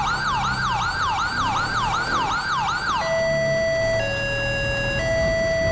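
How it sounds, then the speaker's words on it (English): A CHP police siren in a snowy GTA roleplay game wails loudly, first in fast repeating upward sweeps, then switching to steady alternating high-low tones, with a vehicle engine rumbling underneath. "We do have the newest CHP siren server side"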